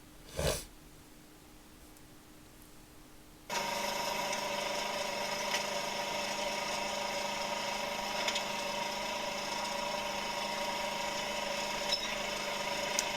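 A tractor works in a field, lifting and winding up plastic mulch film from tall crops; after a brief snort-like burst, its steady engine drone starts abruptly and runs loud and continuous to the end, with no talk.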